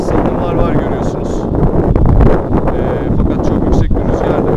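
Steady wind buffets the microphone outdoors during a Yuneec Typhoon Q500 4K quadcopter drone flight. The rumble is loud, continuous and gusty throughout.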